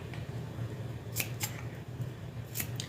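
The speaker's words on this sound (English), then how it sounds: "So I'm just going to do a cut up the middle" Scissors snip through a bag strap 1.5 inches wide on a modified crossbody bag, a few sharp close cuts spaced over a faint steady background hum.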